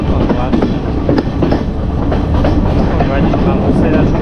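Passenger train running steadily on rails, a dense continuous rumble with clickety-clack wheel beats throughout, loud and close as if heard from aboard, with faint voices in the background.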